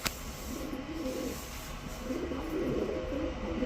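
A pigeon coos softly while being held in a hand, low, repeated murmuring coos over a quiet background, close but faint, opening with a brief knock.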